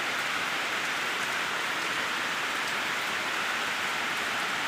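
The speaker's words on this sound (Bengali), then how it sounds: "দেখো কিভাবে বৃষ্টি হচ্ছে, এত বৃষ্টি হচ্ছে তো ধারণা করতে পারবে না কি বৃষ্টি হচ্ছে" Heavy rain pours steadily over a home's front yard beside a canal and a paved road, a dense, continuous hiss with no letup and no voices.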